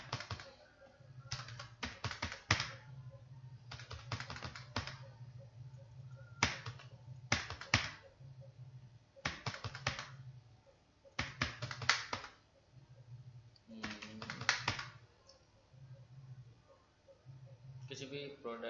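Computer keyboard typing while entering spreadsheet data, arriving in irregular bursts of quick clicking keystrokes with short pauses between, close and clear, while someone talks throughout.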